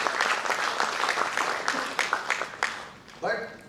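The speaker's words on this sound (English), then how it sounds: "Big round of applause for him." An audience applauds at an Antarctica Day ceremony, clapping steadily for a few seconds before it thins out, with a voice speaking over it near the end.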